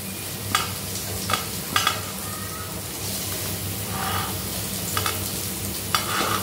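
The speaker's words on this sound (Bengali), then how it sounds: "এরকম করে আলু ভেজে নিলে খেতে অনেক স্বাদ হয় তরকারির মধ্যে" Potato pieces fry in oil in a pan for a pomfret fish curry, a steady sizzle with several sharp scraping stirs of a spatula spaced through it, close and moderately loud with no talk.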